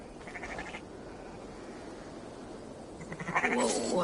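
Sheep in a video game bleat twice, a short call early and a louder, brighter one at the end, over a faint ambient background.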